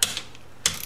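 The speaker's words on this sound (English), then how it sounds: "Always go nice and slow with the torque wrench." A torque wrench tightening crankcase bolts on a 1973 Honda CB750 gives sharp ratcheting clicks: a loud click, a fainter one, then after a pause another strong click followed by a quick light ratchet run, close by.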